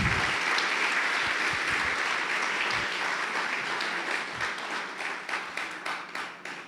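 Loud, sustained applause from a church congregation at a worship service, steady clapping with scattered cheers that gradually thins toward the end.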